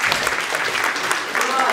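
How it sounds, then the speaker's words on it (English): An audience applauds at a science show, a steady burst of many hands clapping close and loud throughout the short moment, with no talk over it. "I deserve a round of applause for that,"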